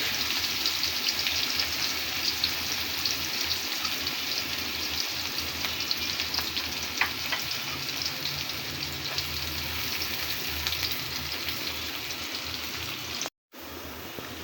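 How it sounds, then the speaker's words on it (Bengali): Turmeric, spices, salt and onion frying together in a pan, a continuous dense sizzle like steady rain, with faint stirring scrapes and a brief dropout near the end. "হলুদ মশলা লবণ পেঁয়াজ সবগুলো মিলে ভালোভাবে কষানো হয়ে গেছে"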